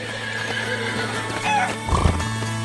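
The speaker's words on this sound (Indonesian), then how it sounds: "Kuda-kuda itu masuk ke dalam kandang dengan nyaman." Horses neigh loudly and hooves clip-clop as they walk into a stable on a farm, with a short whinny near the end over steady background noise.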